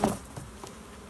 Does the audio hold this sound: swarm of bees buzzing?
yes